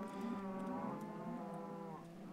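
A cow moos in the video game Minecraft, one long, close, fairly loud low moo filling the clip, with no talking.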